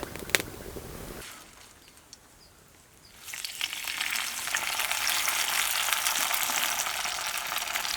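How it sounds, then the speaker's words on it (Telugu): A bunch of gongura leaves is dropped into two spoons of hot oil on an outdoor farm and bursts into a loud, rushing sizzle after a brief quiet gap, then keeps frying steadily. "2 చెంచాలు నూనె వేసుకుని నూనె వేడెక్కగానే 1 కట్ట గోంగూర వేసుకుందాం"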